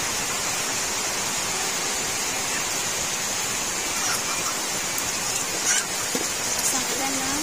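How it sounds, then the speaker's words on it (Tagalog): Heavy rain pours onto the roof of a chicken coop, a dense, continuous hiss of drumming drops at steady volume, with a few faint squeaks near the end. "Yan, malakas na naman ang ulan."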